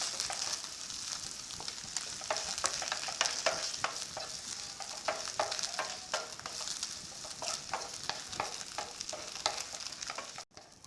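A spice mix of red chilli, salt and ajwain for chicken mirchi pakode is worked together by hand, making a continuous rough rubbing and scraping with many small crackling ticks, steady and close, with no voices.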